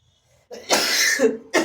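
A single harsh cough close by, a short rough burst with a brief second catch at the end, in an otherwise quiet room.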